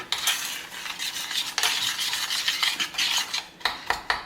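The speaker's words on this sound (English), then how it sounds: "Get your spoon. Mix it up, baby." A spoon scrapes and clinks against a bowl while cherry honey ham glaze gets stirred, with repeated close, rhythmic strokes and a few sharper taps.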